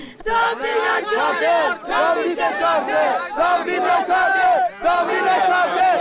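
A large Iranian crowd shouts in unison, loud and close, rhythmic chanting voices rising and falling in waves with brief pauses between phrases.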